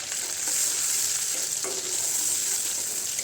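Chopped onions frying in a pan while being stirred, giving a loud, steady, close sizzle that runs unbroken throughout with no talking.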